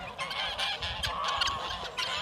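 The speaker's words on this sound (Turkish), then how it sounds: "Evet şimdi kazlar yola doğru yürümeye başladı." Geese walking toward a road honk again and again, their nasal calls overlapping in a loud, continuous clamor close by.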